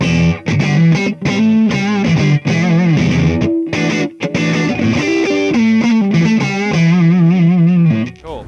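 Electric guitar played straight into an Audient Sono interface with no pedal, a loud, driven, distorted tone with sustained notes and bent lead phrases played continuously, no talking.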